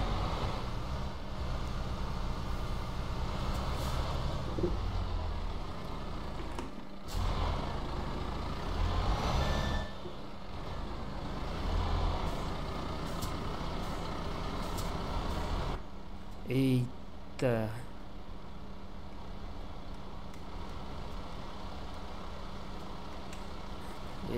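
Steady engine drone of a truck in Euro Truck Simulator hauling a fuel load from Osijek to Sarajevo, continuous and fairly loud, with brief air-brake hisses and a short break near the end, under occasional talk.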